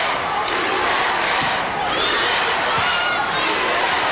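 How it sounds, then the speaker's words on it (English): Spectators roar steadily through a women's volleyball match between the USA and Cuba in 1996, a dense, sustained wash of cheering with a few louder swells and sharp shouts over the noise. "Crowd very much into this game, and Oden comes down hard again to tie it at"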